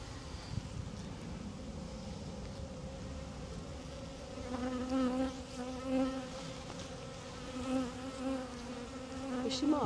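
Honey bees buzz steadily around an opened hive frame of sealed brood, a dense continuous drone with some nearer bees swelling louder at times, close up outdoors.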